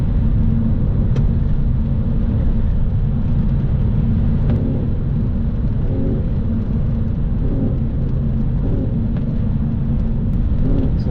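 A Lexus SC430 with VVT-i and an ECU mod pulls in 3rd gear, engine speed around 3,500 rpm, a loud, steady, low-pitched drone heard from the cabin.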